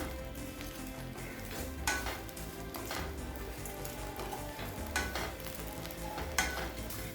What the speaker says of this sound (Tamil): இப்போ பிரெட்டை நல்லா டோஸ்ட் பண்ணிக்கலாம்